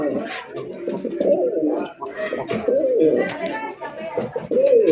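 A pair of caged pigeons cooing in repeated throaty, rolling bursts, close and fairly loud, with brief pauses between calls.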